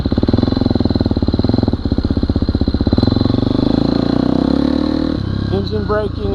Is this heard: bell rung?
no